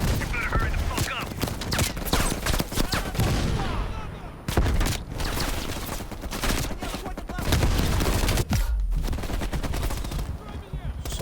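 Heavy machine gun fire from a Call of Duty campaign battle, with long, dense bursts of rapid shots that keep going nearly without a break. The bursts are loud and close and stop briefly only a couple of times.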